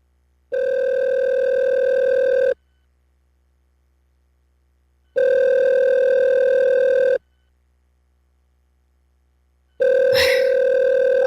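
Ringback tone of an outgoing telephone call, three long, even buzzing rings separated by silent gaps of about two and a half seconds, clear and close, the last ring briefly disturbed by a faint knock.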